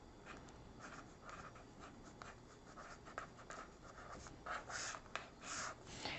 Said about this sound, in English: I'm actually going to draw a line here.